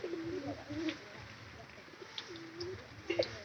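Pigeons in a home loft coo softly in repeated low phrases, a few brief chirps mixed in, all fairly faint and close over quiet background noise.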